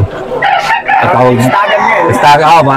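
A nine-month-old young rooster, a stag, crows loudly and close by at a Filipino gamefowl sale, with people talking over and around the crow throughout.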